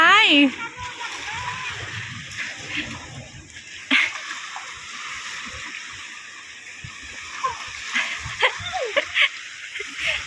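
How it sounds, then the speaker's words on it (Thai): Children splash in cold sea water on a Turkish beach, with loud splatters at the start and scattered bursts later, while kids' voices and an adult talk over a constant wash of waves. "ลงทะเลเล่นน้ำครั้งแรกของเด็กๆเลยนะคะ ที่ตุรกีนะ"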